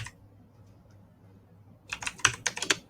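Computer keyboard typing a search for a visiting card in Canva: a quick burst of about eight to ten crisp key clicks near the end, close and fairly loud, after a near-silent stretch.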